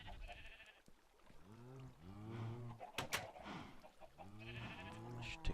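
Sheep in Minecraft bleat in a quiet pen with grass, two wavering baa calls spaced a few seconds apart, soft and near, with a sharp click between them.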